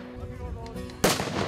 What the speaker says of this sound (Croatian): Pa pucanje iz kubura, muža i topa.